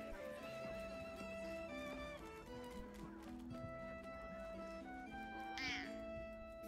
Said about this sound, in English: Wow, he meows so ugly.